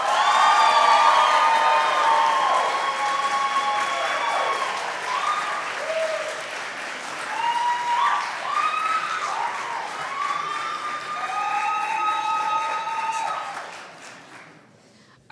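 A youth entrepreneurship competition crowd claps loudly in sustained applause for a vote, with cheers and high whoops rising over it before it tapers and cuts off.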